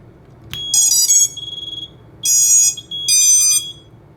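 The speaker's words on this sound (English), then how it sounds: "I like this stack because it's already got a buzzer connected right here" A flight controller buzzer on an EMAX Magnum F4 tower stack beeps when a battery is plugged in: a sharp initial click, then several loud, high, steady electronic tones in bursts with short gaps, close and alone.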